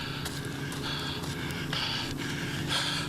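A runner's heavy, rhythmic breathing during the Mount Marathon mountain race, close and steady with sharp gasping inhales repeating throughout amid a busy background.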